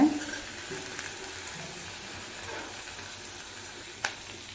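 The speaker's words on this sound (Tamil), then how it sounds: "அந்த முருங்கைக்கீரையை அந்த எண்ணெயிலே ஒரு 2 நிமிஷம் நல்லா வதக்கிக்கோங்க." Moringa (drumstick) leaves sautéing in hot oil give a steady, soft broadband sizzle and hiss throughout, close by and fairly quiet, with a single sharp utensil tap near the end and no voices.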